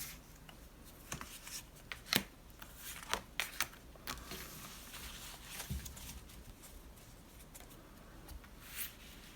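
Animal totem cards, used for a tarot reading, shuffled and drawn by hand, quiet papery flicks and slides with a few sharper snaps spread unevenly, close and faint, with no voices.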